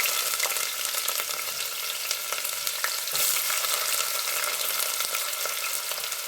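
Onions frying in hot oil give off a steady, dense crackling sizzle at close range. It runs continuously with no talk.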